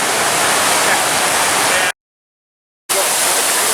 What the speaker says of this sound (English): there is actually a wave that comes out the side here as guests splash through.